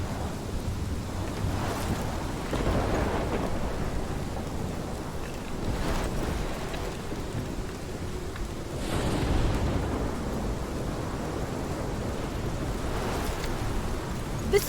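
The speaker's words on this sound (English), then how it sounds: "This is my storm." Steady rain and wind roar through a stormy scene in the Life is Strange video game, with broad rumbling swells of thunder rising around two, six and nine seconds, constant and enveloping with no talk.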